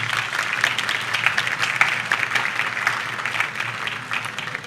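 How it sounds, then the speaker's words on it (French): Audience at a law fair opening ceremony applauds a lawyer delegated by the Port-au-Prince bar: a steady, moderately loud wash of many hands clapping that continues throughout without fading. "Vous pouvez l'applaudir."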